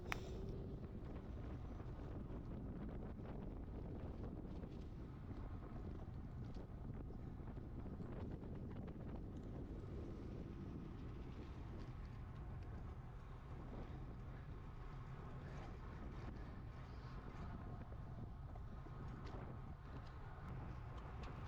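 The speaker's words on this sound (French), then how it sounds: "dans cette ligne droite précisément on a un fort vent de dos" A strong tailwind buffets the microphone along a straight during a running race at Haveluy. It makes a steady, low, rumbling roar that continues unbroken and fairly faint, with no talking.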